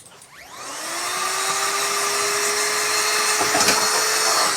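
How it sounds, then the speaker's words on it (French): A small handheld air blower cleans out a coffee grinder. It starts with a rising whine, then settles into a sustained, loud hissing rush of air that holds steady to the end. "Il existe des petites soufflettes pour nettoyer ton moulin."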